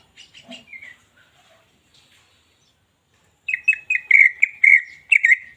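Green leafbird (cucak ijo) singing up close: a few scattered chirps and whistles, a short pause, then a loud run of rapid, repeated bright whistled notes.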